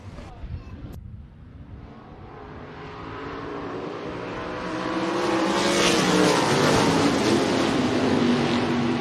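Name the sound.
race cars taking the green flag at Rapid Speedway heat race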